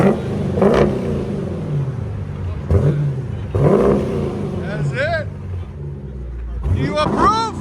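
A 2022 Dodge Durango R/T with a 5.7L V8 and Vibrant resonators revs repeatedly, its exhaust swelling in several loud, close blips and rising pulls, with people talking over parts of it.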